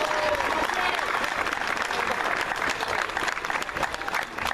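Dense, sustained applause from a large outdoor crowd at a small-town parade of champions in Huntington, West Virginia, steady and loud throughout with no break.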